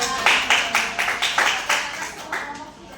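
A classroom group applauds a presenting group during a microteaching practice session, with a run of rhythmic clapping bursts in regular pulses that fade toward the end, and a faint voice underneath.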